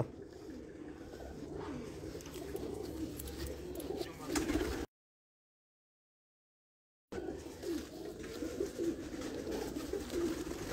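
Soft, low coos of breeder pigeons on a rooftop repeat amid rustling and background murmur, with a brief gap of total silence in the middle.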